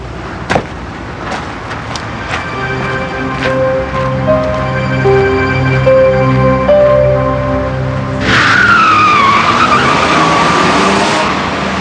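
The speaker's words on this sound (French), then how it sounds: "La voiture est repartie." A car pulls away with a rising engine note and a sharp tire squeal near the end, heard alone and fairly close over a steady rumble.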